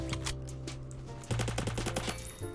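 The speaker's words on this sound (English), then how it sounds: "every time I shoot and I hear the suppressed bullets coming out" Rapid suppressed gunfire in the Phantom Forces shooter game, a burst of muffled shots in quick succession over steady game background, followed by a few more isolated pops.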